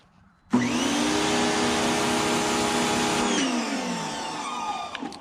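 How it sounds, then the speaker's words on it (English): A Greenworks 2000 PSI electric pressure washer with a turbo nozzle starts abruptly, holds a loud steady whining motor drone for several seconds, then winds down with a falling pitch, close by and without speech. "that is my review of the 2000 PSI Greenworks pressure washer. Got the turbo nozzle."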